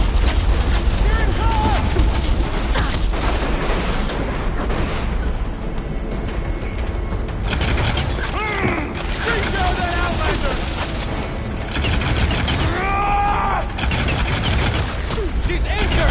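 Gunfire in the game Horizon Forbidden West, a dense run of shots and booms under constant wind-like roar, with shouted voices cutting in throughout.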